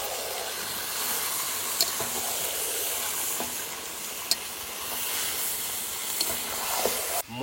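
Goat meat added to fried spices in a pot at an outdoor village picnic hisses loudly and steadily up close, the continuous sizzle broken by a few sharp clicks of stirring.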